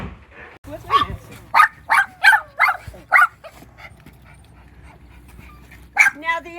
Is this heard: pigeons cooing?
no